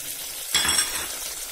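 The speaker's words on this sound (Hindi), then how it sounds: "ये देखिए हमारी प्याज फ्राई हो चुकी है। अब हम टमाटर डाल देंगे इसके अंदर" Chopped tomatoes hit hot fried onions in a pan, releasing a sudden close sizzle that settles into a steady, softer frying hiss.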